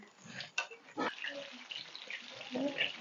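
Prawn lollipops deep-frying in hot oil over a low flame, giving a soft, steady sizzle and crackle with a few brief louder bursts, close by and fairly quiet.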